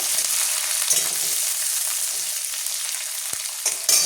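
Onions frying in a pan until lightly reddened give a bright, steady sizzle, close and continuous, with a faint clink or stir near the end and no talking.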